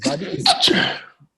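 A single sneeze, loud and close, bursting out in two quick bursts and then stopping abruptly, heard during a casual sports-talk conversation.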